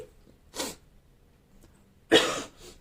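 Two sharp sneezes, the first a short burst and the second louder and closer, separated by about a second and a half of quiet.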